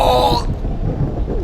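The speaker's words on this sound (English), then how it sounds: "Lightning striking the water." In Minecraft, a lightning bolt strikes water with a loud, close crack that cuts off sharply, followed by a low rumbling tail like thunder.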